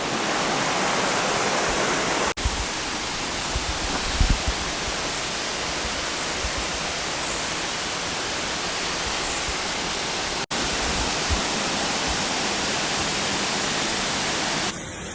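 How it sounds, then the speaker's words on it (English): Steady, loud rush of a waterfall heard from near a suspension bridge in the Sunshine Coast hinterland around Maleny, Australia, a continuous broadband roar that briefly drops out twice. "Looking back up, we can't quite see the waterfall from here."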